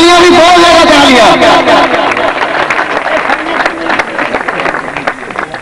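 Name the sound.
audience applause and clapping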